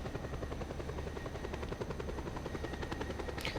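A helicopter in the video game Just Cause 2 flies with a loud, steady rotor chop and engine whine, continuous and close throughout, with no talking.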